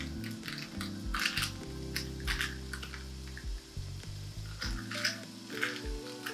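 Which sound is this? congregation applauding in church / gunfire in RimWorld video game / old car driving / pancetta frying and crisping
pancetta frying and crisping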